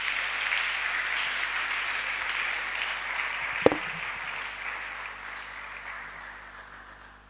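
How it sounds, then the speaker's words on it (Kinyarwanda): A church congregation gives a long, steady round of applause in praise of God, with the clapping holding at an even level before slowly fading toward the end. "Twongera Imana yacu amashyi menshi"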